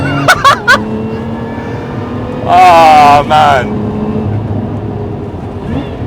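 A Lotus Emira sports car engine revs up loudly in one rising, throaty burst of about a second. A few short spoken words come just before it over a low steady engine hum.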